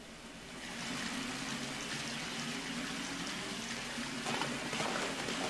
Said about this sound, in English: Follow the water downhill.